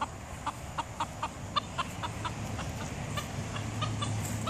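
A rooster clucks in a run of short, sharp, evenly spaced calls, close by, over a low, steady background rumble, while a Great Dane herds chickens.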